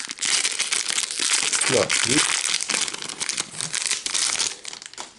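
Crinkly plastic foil of Lord of the Rings card booster packs being torn open and handled, a dense, continuous crumpling close by, with a short spoken word over it.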